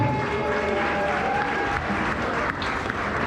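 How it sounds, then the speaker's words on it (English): A gala audience at Mission Lago claps steadily in a dense, continuous wash of applause, with faint crowd murmur underneath and no clear voice on top. "I appreciate the claps and the energy"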